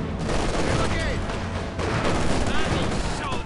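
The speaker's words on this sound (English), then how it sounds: "Why are they shooting at us?" Sustained gunfire and machine-gun bursts in the Company of Heroes 2 Soviet campaign mission Scorched Earth, a dense continuous battle din with shots and distant booms under intermittent shouted voices.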